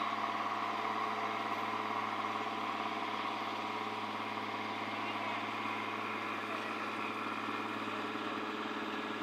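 A river launch's engine runs steadily on the Kushiyara River in Habiganj, a continuous mid-pitched drone with a low hum and no change in level across the clip.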